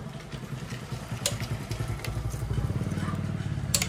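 A motorcycle being started with the self-starter while the clutch is held: a close, rough engine chugging and cranking that grows steadily louder and more even over a few seconds, with faint clatter on top.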